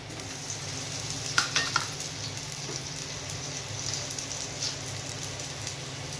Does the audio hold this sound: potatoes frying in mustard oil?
yes